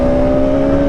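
A Bajaj RS200 motorcycle engine holds a steady, loud revving drone with a strong even tone, close by and alone for a brief moment.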